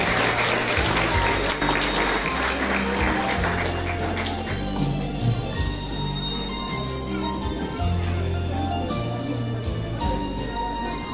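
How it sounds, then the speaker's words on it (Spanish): Applause fills a graduation ceremony in San Antonio while music with deep, sustained bass notes plays underneath, the clapping steady and fairly loud throughout. "Fuertes los aplausos."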